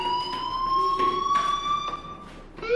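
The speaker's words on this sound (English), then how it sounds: "do you hear that fire alarm?" A fire alarm in the video game Life is Strange rings steadily as a shrill, continuous electronic tone with faint pulsing, holding at a moderate level.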